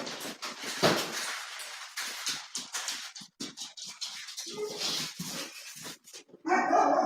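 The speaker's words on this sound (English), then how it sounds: "he's going to bark at a girl that he knows" A dog barks indoors, close and loud, in short repeated bursts with whimpering yips mixed between them.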